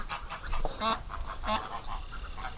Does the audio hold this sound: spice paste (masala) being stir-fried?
no